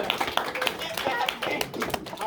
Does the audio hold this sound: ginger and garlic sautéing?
no